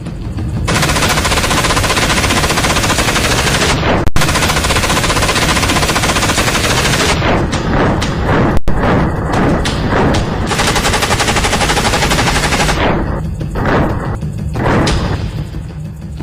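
Sustained, loud automatic fire from a modern Israeli-made assault rifle, in long rapid bursts with brief pauses near four and eight seconds, then thinning into separate shots toward the end.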